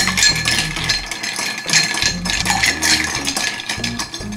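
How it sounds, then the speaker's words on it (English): Ice cubes rattle and clink against a mixing glass as a spoon stirs a dry gin and vermouth cocktail with a dash of orange bitters, a steady, busy clatter close to the listener. "Now stir it carefully."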